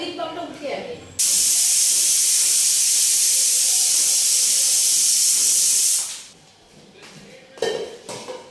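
A pressure cooker with kabuli chana inside lets off a loud, sustained steam hiss close by for about five seconds, then cuts out. Brief kitchen clatter of pots and utensils comes before and after it.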